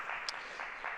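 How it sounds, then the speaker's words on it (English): Soft, steady applause from a conference audience for the day's speakers, a distant wash of clapping with no voices over it. "Give them a round of applause."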